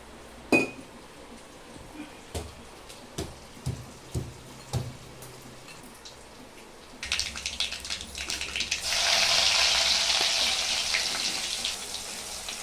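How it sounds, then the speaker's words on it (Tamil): Garlic, mustard seeds, urad dal and cumin dropped into hot oil; after a few utensil clinks a loud steady sizzle and crackle rises and holds, close and continuous. "பூண்டு நன்றாக பொரிகிறது."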